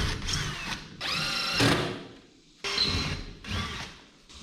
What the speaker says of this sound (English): I drilled that sucker so hard